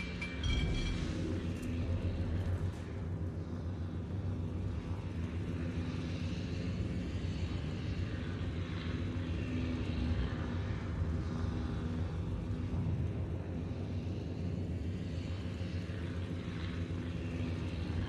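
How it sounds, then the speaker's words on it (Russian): A fighter aircraft takes off in a video game, its engine a loud, steady roar that drones on without a break from start to finish, close and dense. "истребитель взлет произвел"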